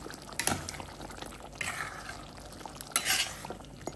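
A spoon stirs mutton sukka in a pan after salt goes in, giving soft scraping strokes in a few bursts over a faint, low sizzle.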